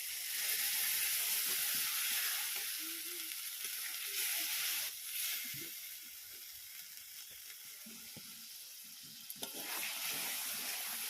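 Mustard paste hits a pan of fried tomatoes and sizzles in a continuous loud hiss, with occasional stirring scrapes and brief clinks. The sizzle holds steady throughout with no voices.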